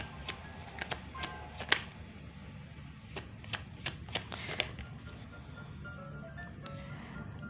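A deck of playing cards is shuffled for a tarot-style reading, with quick riffling bursts and sharp snaps in an uneven rhythm, close and fairly quiet, with no talk.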